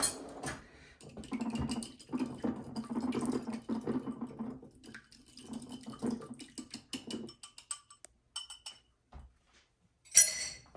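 An egg is whisked in a glass bowl for a holiday pie filling. The whisk makes a quiet, rapid clinking and scraping against the glass for several seconds, then stops, and a sharp clink follows near the end.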